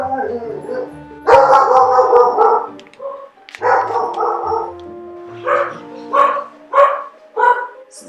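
Several dogs bark and yip in bursts, loud and close, with short gaps between the barks and some whimpering near the end.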